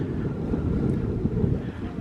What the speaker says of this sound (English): you can see how much the wind is pushing everything around, rippling the water